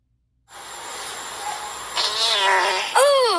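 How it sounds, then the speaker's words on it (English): A long, steady, hissing fart runs close and loud for about three seconds, rising into squeaky, wavering tones near the end. "Did you fart at the same time I"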